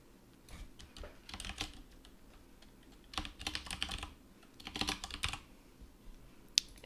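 Typing on a computer keyboard, quiet bursts of rapid key clicks in clusters separated by pauses, one sharper final keystroke, with no voices.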